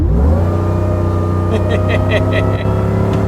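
A supercharged Chevrolet Suburban belonging to an NFL player accelerates hard, its engine droning loud and steady with rising pitch, a supercharger whine layered on top and a few brief rhythmic bursts near the end.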